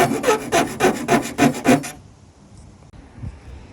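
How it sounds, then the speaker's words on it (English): Metal file rasping along the cut edges of a van roof opening for a MaxxAir fan, seven steady close strokes in a regular back-and-forth rhythm, then stopping to near silence. "I'm just gonna file down these edges"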